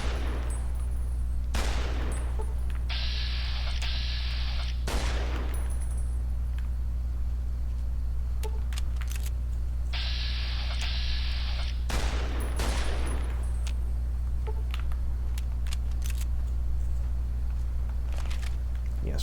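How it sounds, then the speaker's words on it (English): Survivalist rifle fire in Fallout New Vegas: a few sharp, loud single shots spread across the stretch, with bright metallic bursts between them, over a steady low drone of game ambience. "We're going to switch to the survivalist rifle to"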